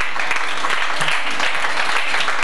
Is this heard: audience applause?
yes